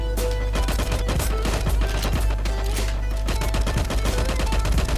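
Nonstop automatic rifle fire from a FAMAS in the video game LifeAfter, rapid cracking bursts layered with distant shots and a low rumble, steady and loud throughout.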